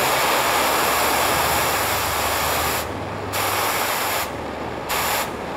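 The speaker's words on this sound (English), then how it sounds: "Hold your valve open and adjust accordingly until your cutting flame is also a neutral flame" Oxygen-acetylene cutting torch burning with a neutral flame, a loud close roaring hiss that dips briefly a few times as the cutting oxygen valve is worked.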